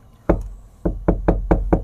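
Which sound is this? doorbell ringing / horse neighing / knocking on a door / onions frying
knocking on a door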